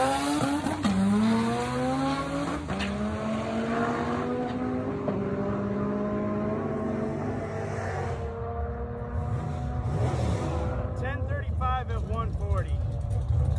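Race car at Great Bend making a pass down the track, its engine climbing through several gear shifts in a loud, continuous drone, with someone talking over it.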